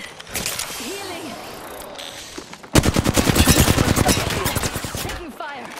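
Gunfire in the shooter game Apex Legends: scattered mechanical clicks and a few shots give way to a loud, rapid burst of automatic fire lasting several seconds, close and dense.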